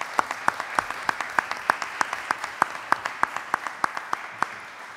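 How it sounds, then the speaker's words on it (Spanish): A small group claps at a ceremony declaring a book on the Malvinas of interest in Buenos Aires, with a few distinct, sharp hand claps standing out in a regular rhythm over softer scattered clapping. "Pedimos un aplauso entonces."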